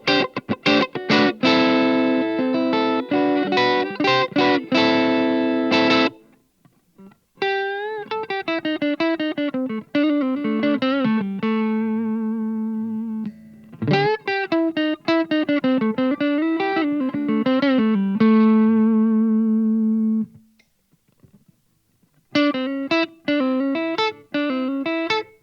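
Yamaha Revstar Element RSE20 electric guitar on its neck pickup, played in distorted bursts of chords and ringing single notes, with short silent gaps between phrases.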